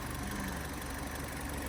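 A Fiat 500 engine idles at a steady, continuous drone with a rough, knocking edge, close by and unbroken throughout.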